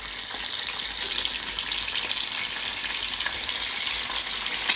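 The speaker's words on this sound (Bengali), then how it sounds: "তো এখন আমি ডিমটি ছেড়ে দিলাম। ডিম দিয়ে একটু আমি বাদামি কালার করে ভেজে নিব।" Egg frying in oil in a kadai on a stove, a steady dense sizzle that holds constant and fairly loud throughout, with no voices.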